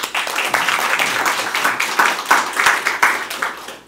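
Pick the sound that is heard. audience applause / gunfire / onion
audience applause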